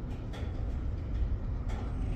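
A freight train rolls past heading north, a heavy low rumble and rattle of wagons, steady and fairly close throughout.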